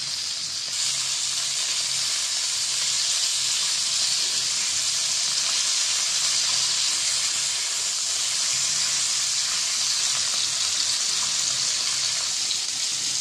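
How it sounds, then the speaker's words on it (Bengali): A piece of shol fish (snakehead) fries in an oiled pan, giving a loud, steady hiss and crackle of sizzling oil that runs unbroken with no voices. "এটা ভাজা হচ্ছে।"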